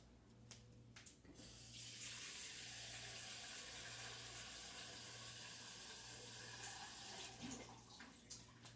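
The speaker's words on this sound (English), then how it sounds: "I'm going to fill this completely to the top with water." Tap water runs steadily into a pot of dry beans, a continuous rushing stream for several seconds under a low background hum, with the flow ending near the close.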